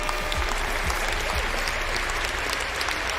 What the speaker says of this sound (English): I almost wanted to give him a round of applause